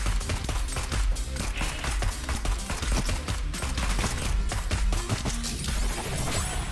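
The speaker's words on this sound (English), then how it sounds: "You fire penetrating bullets at enemies automatically." Rapid automatic gunfire of penetrating bullets in the neon roguelite shooter Neon Abyss, a dense continuous barrage of sharp repeated shots with crashing impacts and a thumping low-end bed, loud and sustained throughout with no talking.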